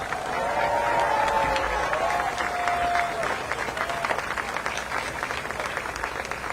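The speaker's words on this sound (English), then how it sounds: "Give them a round of applause." Crowd applause at an outdoor voting rights march in Atlanta, with steady clapping and cheering sustained for several seconds at moderate distance, voices mixed into the noise.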